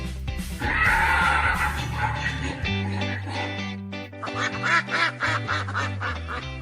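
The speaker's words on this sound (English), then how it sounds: "Duck." A farm duck quacks in a run of rapid, nasal calls, loud and close, with a brief whinny-like cry mixed in among the noisy bursts.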